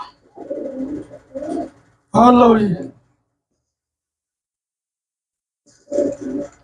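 Pigeons at a pigeon-keeping loft give short, low cooing calls in two brief bouts, with a quiet pause between them. Someone speaks briefly in the middle.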